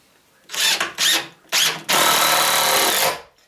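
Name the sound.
driving a screw into a wooden raised garden bed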